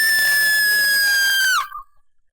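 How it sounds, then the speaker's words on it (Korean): A long, loud scream sound effect in a multi-character Korean audiobook of a Sidney Sheldon thriller, coming from an apartment; it holds a sustained high cry for about a second and a half, then cuts off with a short decaying tail. "그때 아파트에서 요란한 비명이 들려왔다"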